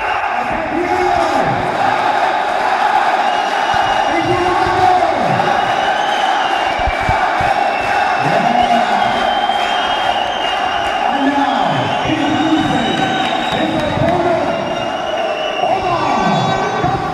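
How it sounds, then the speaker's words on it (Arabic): A dense arena crowd chants and cheers steadily and loudly as a fighter circles the cage before an AUFC 30 welterweight title MMA bout, rhythmic shouted chants rising in waves over constant roar. "طبعا سامعين الجمهور طبعا بيقول ايه"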